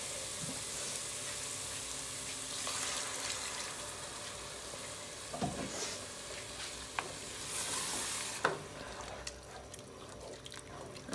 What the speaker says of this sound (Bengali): আর একটু পানি দিয়ে মশলাটার ভালো মতন কষাই নি